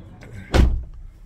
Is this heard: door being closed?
yes